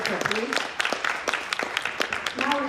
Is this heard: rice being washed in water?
no